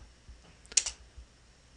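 A short burst of quiet, close keystrokes clusters in the middle of the moment, with a couple of softer isolated clicks around it.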